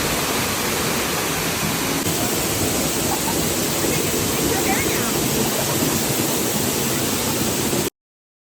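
A waterfall near Atlanta, Georgia, roars as a dense, constant broadband rush, loud and close, steady throughout before cutting off abruptly at the end.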